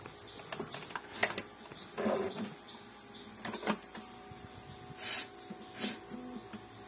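An Epson L3110 inkjet printer with multiple errors powers on, giving faint, quiet mechanical whirs and short motor bursts that come in several separate pulses, with soft clicks between them and no talking.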